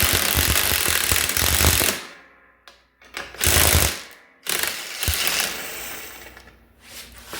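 Ratchet turning a thread rethreader to clean up a damaged stud on a 1965 Mustang under restoration: loud bursts of rapid mechanical clicking and grinding, broken by short pauses, close to the microphone and with no talk.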